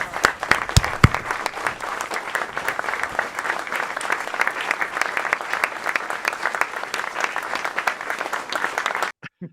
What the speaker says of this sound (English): If everybody would stand up and let's applaud for Richard Scheckman, okay?